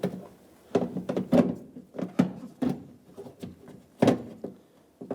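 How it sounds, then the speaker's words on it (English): The front outer door handle of a 1997-2003 Ford F-150 is worked loose and pulled from the door, giving a run of close, hollow plastic-and-metal clunks and knocks in uneven bursts with quiet gaps, no talking. "At this point, you can pull the door handle out like this"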